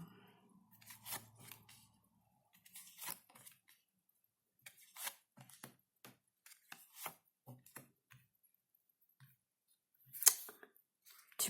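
Quiet handling of tarot cards: soft shuffles, flicks and slaps in irregular bursts, with one sharper snap near the end, set against near silence.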